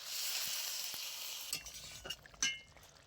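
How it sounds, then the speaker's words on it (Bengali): Sizzling spice mix with fried eggplant in a pan for koi fish curry, steady loud frying hiss that breaks up after about a second and a half into bursts and clinks as water is poured in. "এবার আমি জল দিয়ে দিচ্ছি পরিমাণ মতো।"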